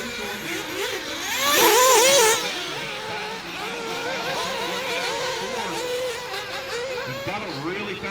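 Nitro-powered 1/8 scale RC cars race around a newly opened track, their high-pitched engines revving and whining as they pass, rising loud near the two-second mark, with an announcer's commentary running over them throughout.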